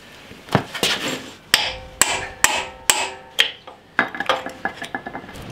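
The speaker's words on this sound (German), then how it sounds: "Hammer." Sharp hammer blows strike metal about ten times in an uneven rhythm while removing wheel motors from a Toro Greensmaster mower, each hit ringing briefly, with lighter clinks and taps scattered in between.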